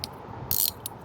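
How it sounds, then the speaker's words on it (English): A 17mm wrench breaks loose the oil drain plug on a Kia Sportage, giving a short metallic ratcheting click and creak with one bright burst mid-clip, close up and without talk. "That's gonna be a 17mm wrench or socket. All right, 17mm socket. I'm using a wrench"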